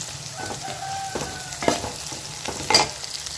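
Onions and green chillies sautéing in a pan for a Tamil lunch, a steady close sizzle broken by a few sharp stirring scrapes and clinks.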